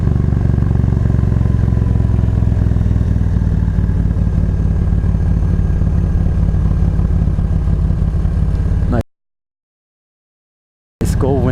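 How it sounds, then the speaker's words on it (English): A Honda Gold Wing F6B motorcycle passes close and loud, a steady deep engine rumble that runs continuously, then cuts to silence before briefly returning. "Wing F6B. Very nice bike, isn't it beautiful?"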